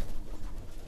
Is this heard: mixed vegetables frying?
no